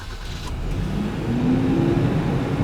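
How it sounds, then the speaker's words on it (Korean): The LPG engine of a Kia Bongo III one-ton truck starts and hums at a low steady idle, rising slightly as it settles into a smooth, quiet running drone. "시동이 걸린 건가?"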